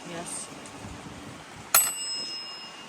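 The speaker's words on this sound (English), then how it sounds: "So we told you that this thing that you're ringing is a bell." A single sharp bell strike rings out clearly and then decays with a lingering metallic tone, following quiet background murmur and voices.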